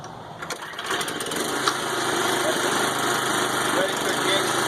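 Kubota WGC6-21 push mower's small engine runs steadily at idle, a constant close drone that grows slightly louder after the first second, with no blade engaged.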